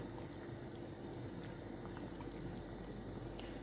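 Tomato juice bubbles and simmers quietly in a pot, a steady soft seething with faint pops.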